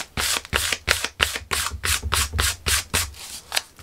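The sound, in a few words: sanding a surface to remove shine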